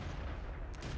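A tank cannon firing in World of Tanks, one heavy booming shot with a deep low rumble that swells and fades within a second.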